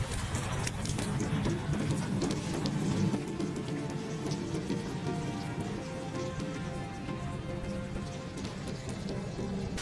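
Heavy rain pours down continuously, a dense steady hiss of drops striking surfaces, with a brief rumble of thunder in the first few seconds.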